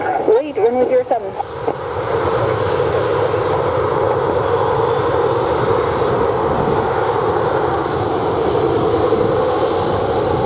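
Airplane taking off from the runway at Montego Bay airport in Jamaica: after a brief opening burst, a loud, steady roar of jet engines builds and holds, heard from nearby.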